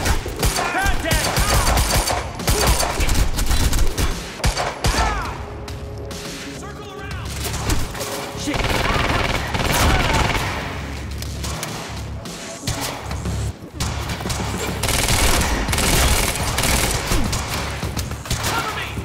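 Sustained rapid gunfire fills a firefight in the video game Quantum Break, loud overlapping bursts with thumps and occasional pauses, and shouting voices partly buried in the shooting.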